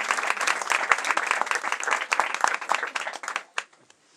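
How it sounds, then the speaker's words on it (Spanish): An audience at a book night event applauds with brisk, dense clapping that runs strongly for about three and a half seconds before fading out with a few last claps. "quisiera pedir pues, un pequeño aplauso a un amigo que ha decorado todo esto para esta jornada tan especial"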